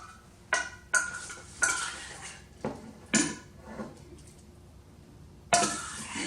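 Mustard pickles are spooned and scraped into a glass jar, giving a few sharp clinks and scrapes of a utensil against glass in a quiet kitchen, with short pauses between the sounds.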